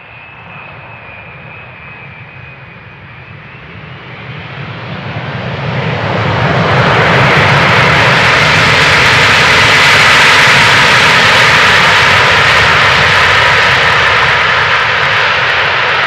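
A Boeing 747 landing at Amsterdam Schiphol Airport roars in, its engine noise building from a whining rumble to a loud, broad, sustained roar that fills everything.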